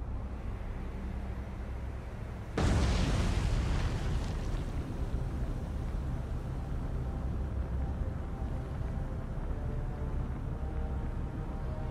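A torpedo hit on a merchant ship in the naval game War on the Sea sets off a sudden loud explosion that settles into a long, heavy rumble, with no talk.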